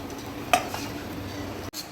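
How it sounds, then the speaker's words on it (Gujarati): Poppy seeds roasting in ghee are stirred in a pan, giving a soft continuous scraping with a faint sizzle and one sharp utensil clink early on. "ખસખસને ઘીમાં શેકી લેશું."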